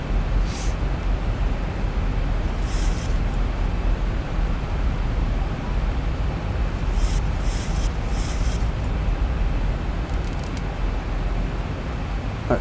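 Boeing 737 jet engines in the Zibo mod for X-Plane 12, a steady, loud broadband roar of the aircraft slowing on its landing rollout, with no talk over it.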